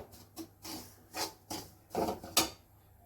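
Semolina roasting in ghee in a pan, a quiet dry scraping and rasping in several separate bursts, like a spoon stirring grains against the metal, with no talk.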